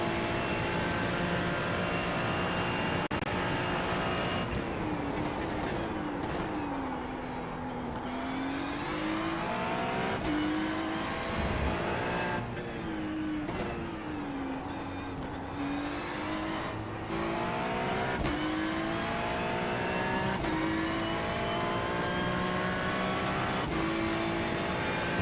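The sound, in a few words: GT3 race cars on track at The Bend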